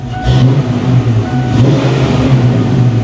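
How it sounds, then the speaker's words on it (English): A 1993 Ford Mustang GT V8 is revved once quickly, a loud, close engine note climbing and then settling back into a steady idle rumble, with no voices over it. "We'll give it a quick rev just to see how the throttle response seems now."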